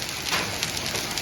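Hail falling outdoors, a dense steady hiss of pelting ice with scattered harder ticks and patters, close and continuous.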